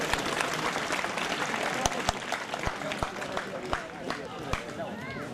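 Applause from an audience at a student honouring ceremony, a dense patter of clapping with sharp individual claps standing out, running steadily throughout beneath crowd murmur and speech.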